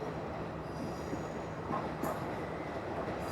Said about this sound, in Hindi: अच्छा ये तो कोई छोटी सी ट्रेन है, कम ही डब्बे लगे हुए हैं।